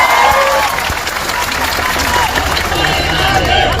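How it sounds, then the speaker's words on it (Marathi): Sustained applause from an audience at an MPSC student protest gathering in Chhatrapati Sambhajinagar, a dense continuous wash of clapping with crowd noise running steadily throughout. "त्यांचा एक मोठा टाळ्या वाजवून सत्कार आपण केला"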